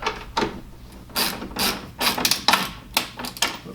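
Bed cover clamps under a GMC truck bed cover are tightened down, giving a run of close, sharp ratcheting clicks in quick bursts with short pauses between them.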